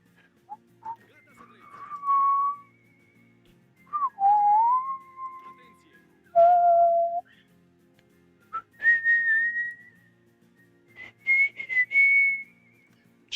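A person whistles a melody in short phrases separated by pauses, each phrase a clear sliding tone, fairly close and alone with a faint steady hum beneath.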